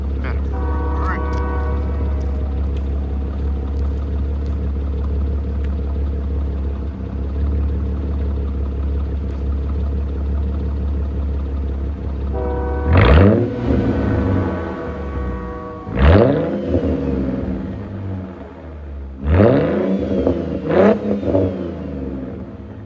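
Mercedes W203 with a straight-piped exhaust, first a steady idle, then three sharp revs rising and falling, loud and close from the rear.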